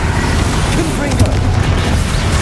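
A Confringo fire spell blasts in Hogwarts Legacy, a dense rumbling boom with crackling bursts that runs continuously through the clip, loud and close.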